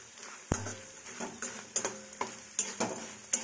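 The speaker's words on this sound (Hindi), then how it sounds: "मीडियम फ्लेम में इसे फ्राई करेंगे ताकि ये अच्छी तरह से एकदम क्रिस्पी हो जाए" Edible gum (gond) fries on a medium flame in a pan, with soft sizzling under a series of distinct stirring scrapes and clinks that repeat roughly every half second, quiet and close.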